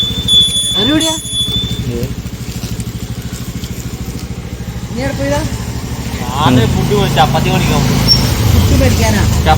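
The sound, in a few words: motorcycles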